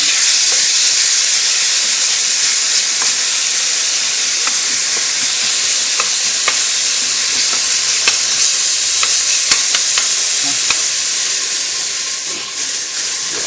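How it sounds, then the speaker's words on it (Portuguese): Ingredients for Portuguese codfish cakes sauté in a hot pan, a loud steady sizzle and hiss with occasional scraping clicks of stirring, continuing without any voices. "É importante que a gente refogue sem deixar dourar, tá?"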